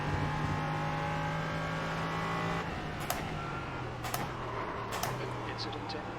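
A race car engine in a racing video game drones steadily at high revs, then the pitch drops as it slows for a corner, with a few sharp clicks on top and no one talking over it.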